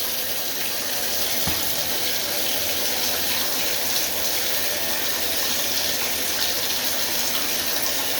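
Hot water pouring steadily from a tap, a loud continuous close-up rush with no break across the whole stretch and no talking.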